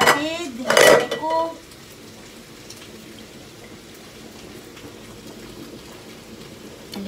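Beef oxtail sautéing in a pot, opening with loud metallic clanks of utensil against pot, then a soft, continuous spattering sizzle.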